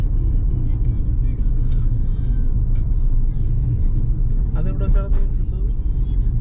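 Suzuki Fronx Sigma engine droning steadily under load while driving on an open road, a continuous loud rumble with rising revs, with some talk faintly over it.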